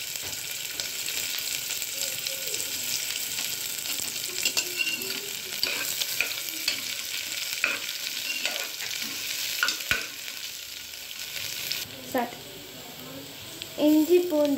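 Onion and green chillies sizzling in hot oil with spices for coconut milk biryani, a steady frying hiss with occasional stirring scrapes and a voice speaking over it.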